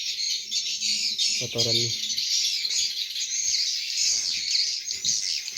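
Swiftlets calling inside a swiftlet house, a dense steady chorus of high chirps throughout, with a short lower squawk near the start and someone speaking briefly.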